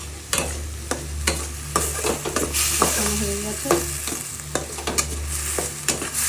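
A spice mix for bitter gourd kalia with garlic and onion is sautéed, a low steady sizzle punctuated by sharp spatula taps and scrapes against the pan at close range.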